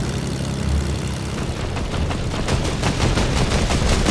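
A propeller plane drones loudly in the video game Fortnite, with dense bursts of rapid gunfire layered over the steady engine roar throughout.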